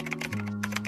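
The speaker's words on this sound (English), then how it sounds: "Go and type" A command is typed on a computer keyboard as a quick run of close, crisp key clicks in an uneven rhythm, heard alone.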